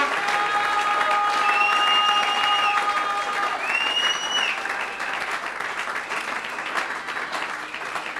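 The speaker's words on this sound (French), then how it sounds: "Que quelqu'un acclame." A church congregation breaks into sustained applause during a Sunday service, loud at first and gradually thinning, with a few high tones sounding over the clapping.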